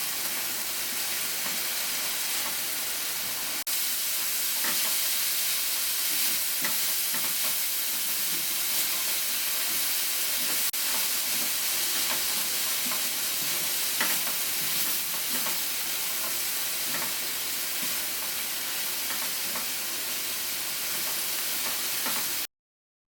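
Chicken searing in a hot pan, a continuous loud sizzle and crackle of frying that holds steady and close for the whole stretch, with no talking.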